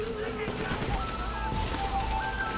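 Golden pistol shots ring out in Sleeping Dogs as a few sharp cracks over club music and game noise, with tonal musical lines running through.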